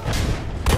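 A tank blows up in Battlefield V on PS4 Pro, a heavy booming blast with deep low rumble that swells again near the end of the short burst.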